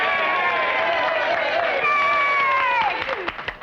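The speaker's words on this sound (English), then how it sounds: "Hey, what are we cheering about?" Spectators at a frontier boxing bout between heavyweight fighters roar and cheer loudly and steadily, a dense wall of crowd voices with clapping mixed in, all close and continuous.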